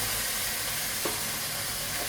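Food fries in a pan at home, giving a steady, moderately quiet sizzle that runs unbroken, with one soft clink partway through and no voices.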